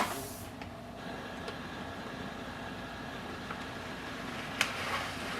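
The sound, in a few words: HP DeskJet 4278 printer copying and printing pages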